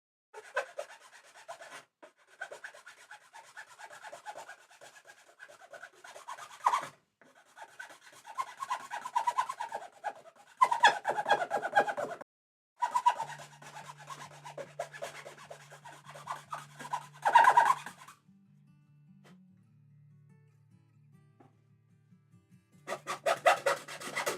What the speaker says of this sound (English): grab a file and just file that tight little corner in there, nice and neatly